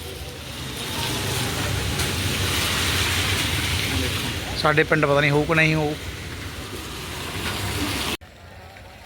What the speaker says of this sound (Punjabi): ਮੀਂਹ ਪੈਣ ਲੱਗ ਗਿਆ ਦੇਖੋ